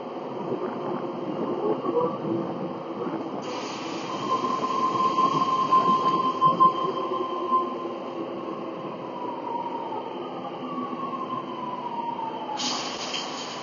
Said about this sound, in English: Tangara is leaving.